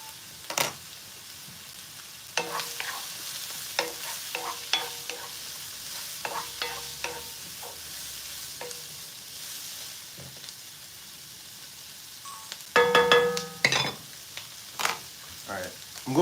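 Onions sizzle and fry in a pan for kofta in tomato sauce, a low steady sizzle under repeated stirring taps and clinks of a utensil against the pan, with a brief louder metallic clatter.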